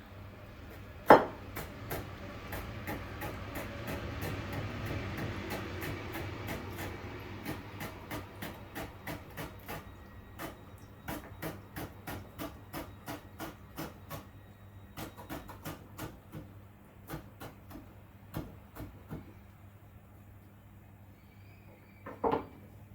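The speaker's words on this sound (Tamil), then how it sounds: "இந்த அளவு பீஸாக நான் சின்னனா வெட்டிட்டு இதை இன்னும் சின்ன சின்னனா வெட்டி எடுக்க போகிறேன்" A knife chops peppers into small pieces on a board for a pasta salad, quick regular tapping strokes repeating close by for over twenty seconds, with no talking.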